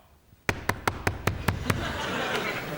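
Seven quick, evenly spaced knocks rap on a hard surface, close and loud, mimicking a tax inspector's knock on a door, followed by a murmur of studio audience reaction.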